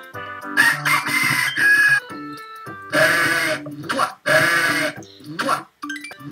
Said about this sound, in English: Oh boy, a rooster.